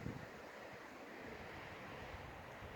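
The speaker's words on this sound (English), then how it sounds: "It's starting to get a little bit too windy" Steady rushing wind fills the scene, a broad continuous roar with a surf-like wash and no voices, fairly faint throughout.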